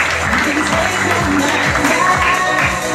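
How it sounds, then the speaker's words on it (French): An audience at a casino gala applauds, a dense, steady patter of clapping hands that fills the space without a break, with voices mixed in beneath. "On applaudit encore une fois très fort."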